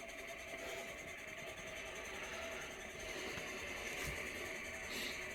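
A diesel heater runs steadily just after being switched on, a continuous low mechanical hum and whir with a faint hiss, even and unbroken from start to finish with no talk.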